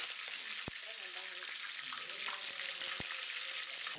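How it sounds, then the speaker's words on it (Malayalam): Curry leaves crackling in hot oil in a pan for mutton biryani, a dense close sizzle with two sharp pops and a faint voice murmuring in the background. "എണ്ണ ചൂടാകുമ്പോൾ കറിവേപ്പില ഇട്ട് കൊടുക്കുക"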